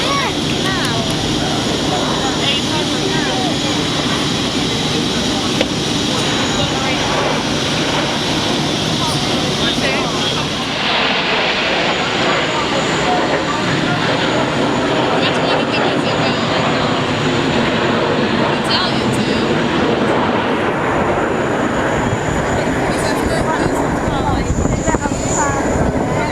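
A jet aircraft roars overhead at the Farnborough Airshow, a loud, continuous broadband engine rumble that swells and shifts in pitch as it passes, with people talking nearby throughout.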